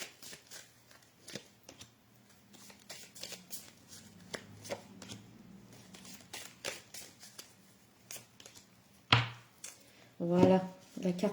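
Oracle cards from the 'Oracle des symboles de vie' deck are shuffled by hand, giving a run of soft, quick riffling flicks and taps, close up, with a couple of louder bursts near the end.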